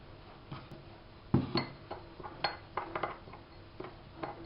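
Spices stirred together in a bowl for a chicken roulade, a run of close, crisp spoon clinks and taps against the dish in an uneven rhythm, with no voice over them.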